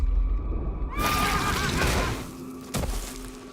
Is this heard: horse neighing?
yes